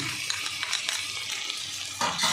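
Chopped tomato and sugar being stirred in a pan with a utensil, soft scraping and light clinks over a faint background sizzle, a slightly louder scrape near the end.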